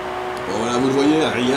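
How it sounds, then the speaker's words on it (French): Porsche Macan SUV engine in the racing game Forza Horizon 3, a steady droning tone that climbs in pitch as it accelerates and dips briefly before rising again, heard up close with talk over it. "je vous laisse profiter du son du moteur."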